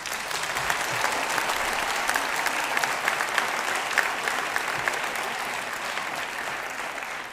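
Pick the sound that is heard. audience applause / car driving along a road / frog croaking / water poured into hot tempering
audience applause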